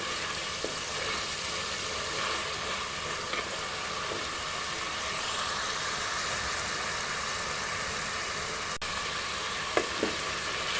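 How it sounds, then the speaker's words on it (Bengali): Onion, garlic and four bay leaves fry in oil for a beef curry, giving a steady, dense sizzle with a few small crackles and pops. "পেঁয়াজ রসুনের সাথে 4টি তেজপাতাও ভেজে নেব।"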